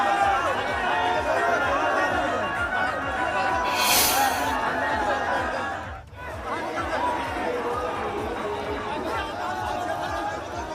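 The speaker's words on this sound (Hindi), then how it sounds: "भारी भीड़ यहां पर देखी गई" A large crowd at Amit Shah's road show in Bareilly produces a dense, continuous outdoor roar of chatter and shouting, with a brief dip near the middle.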